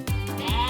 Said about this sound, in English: That's right, I am a sheep.